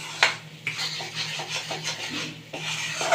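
Spoon scraping and stirring a thick chocolate and jaggery sukhadi mixture in a pan, rough rasping strokes repeating at an irregular pace, close and moderately loud.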